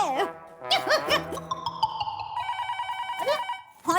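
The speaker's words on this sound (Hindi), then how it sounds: "फोन आया।" A telephone rings in a home on a hot day, its repeated electronic tone coming through clearly after brief voices and a laugh, then continuing alone at moderate loudness.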